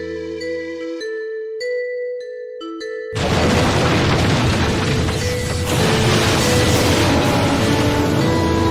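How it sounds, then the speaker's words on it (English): A tonal game score gives way to a sudden, sustained roar of missiles launching from a military base in Final Fantasy VIII, loud and dense, rumbling on steadily to the end without a break. "and missiles are launched"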